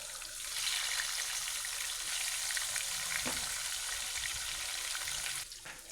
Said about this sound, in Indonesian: ini langsung aja aku goreng ayamnya